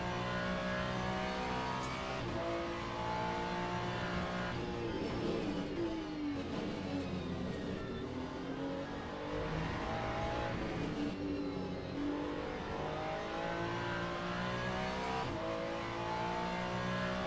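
A hypercar engine in the Le Mans Ultimate racing game at Imola, a continuous loud drone that revs up and down through gear changes and passes, with occasional tire squeal and no talk.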